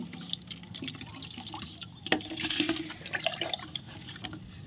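Water splashes and trickles into a container, with uneven bursts of pouring and dripping at moderate volume, no talking.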